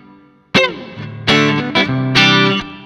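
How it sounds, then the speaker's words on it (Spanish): Electric guitar through a Zoom G1X Four pedal set to hall reverb: a single struck note followed by a few ringing chords, each leaving a long, spacious tail, played alone. "Ahí tengo un poquito de reverb, linda. Es estéreo,"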